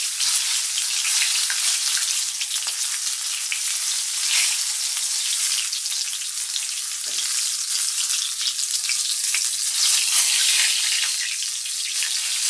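Crocodile meat frying in hot oil gives off a steady, bright sizzle with dense crackling that runs unbroken throughout, close and moderately loud, with no talking.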